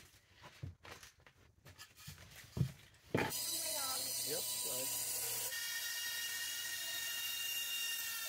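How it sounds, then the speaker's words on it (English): Jigsaw cutting hand shapes out of a 1x6 wood board: a few knocks and handling sounds, then a loud, steady, close buzzing cut runs continuously to the end. "we'll bring all of this over to the jigsaw and cut all of this out"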